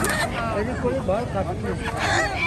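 A chorus of poultry, including black Kadaknath chickens, honks and squawks close by at a country chicken market in Kalaburagi, layered calls overlapping continuously with some background chatter.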